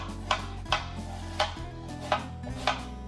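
Eggplant chopped with a knife on a cutting board for ratatouille, five steady, evenly spaced thuds, close and clear over a constant low kitchen hum.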